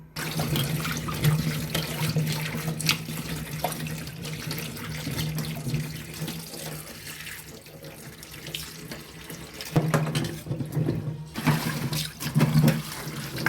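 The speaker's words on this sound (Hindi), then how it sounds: "3 घंटे बाद मैं परवल को चूना पानी से निकाल करके अच्छे से धो लेती हूँ।" Pointed gourd (parwal), just lifted from lime water, rinsed under a running kitchen tap: a steady, loud stream of water splashing into a sink, with brief surges as the vegetables are handled, and no talking.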